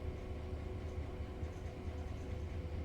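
Steady low rumble of a train running on a German route in Train Sim World 5, with a continuous hum and faint constant tone, no voices over it.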